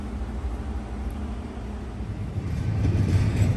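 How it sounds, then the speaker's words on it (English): A train rolling across a highway crossing, a steady low rumble and rushing wheel noise that grows louder toward the end. "waiting on this train to finish going across the highway"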